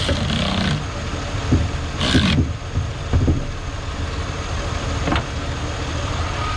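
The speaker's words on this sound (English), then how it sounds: "The car is running." A Chevrolet Impala engine idling steadily at close range, a constant low rumble broken by a few brief louder bursts and clunks.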